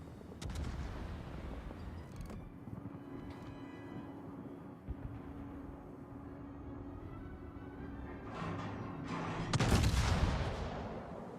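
Heavy naval gun salvos from warships in World of Warships, booming repeatedly through a dense rumbling battle din, with a loud cluster of blasts near the end.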